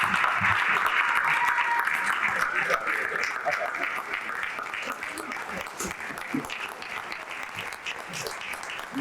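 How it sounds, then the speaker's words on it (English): An audience at a State of the Ward address in Cleveland's Ward 5 applauds the councilwoman, strong clapping that starts loud and slowly thins over several seconds, with some voices in the crowd. "Let's continue to clap for our councilwoman."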